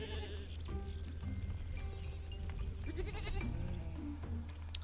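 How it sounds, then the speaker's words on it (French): Sheep bleat repeatedly at a farm, several calls close by over a steady low rumble of background noise. "Et nous avons un mouton."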